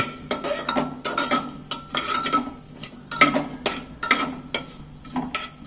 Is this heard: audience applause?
no